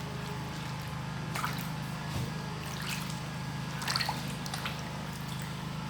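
Water runs and drips while a pineapple is washed by hand, with soft trickling and a few brief splashy bursts over a steady low hum.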